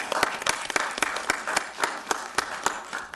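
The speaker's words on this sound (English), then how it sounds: "Let's give them a round of applause" Applause in a city council chamber for supporters of a renewable energy resolution, a modest group clapping with distinct, fairly rhythmic claps over a steady patter, close and moderately loud.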